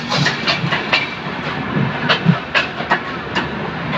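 A train rolling along the rails, heard from on board during a journey, with a loud continuous rumble, hiss and rhythmic clickety-clack of wheels over rail joints.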